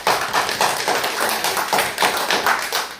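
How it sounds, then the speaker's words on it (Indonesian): Classroom applause, several rhythmic bursts of hand clapping in a steady beat, close and lively, with no talking over it. "Ya, sangat bagus. Tepuk tangannya."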